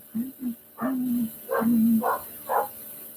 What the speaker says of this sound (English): Neighbor's doing something that's got my dog worked up.